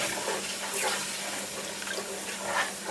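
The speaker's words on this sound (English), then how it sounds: "Now we're going to add the milk, and you're going to stir." Milk pours into white country gravy in a pan, a steady liquid splashing and sizzling hiss close up that continues evenly for the whole three seconds.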